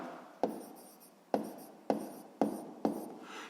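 Pencil strokes scratch across paper while a math exercise is worked out, five sharp, close writing bursts spaced about half a second to a second apart, each fading off before the next.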